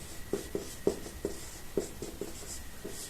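A pen writes out a class 10 maths solution in a steady run of short scratchy strokes, close and clear. The rhythmic ticks repeat against a faint background hum.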